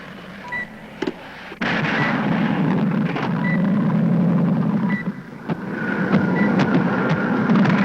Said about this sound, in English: There's a light civilian plane coming in at 190 degrees. Appears to be in trouble.